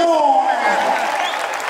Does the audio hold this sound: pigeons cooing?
no